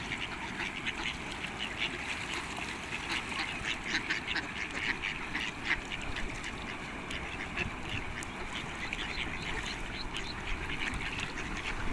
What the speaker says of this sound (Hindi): ये सारी मुर्गाबियाँ हैं।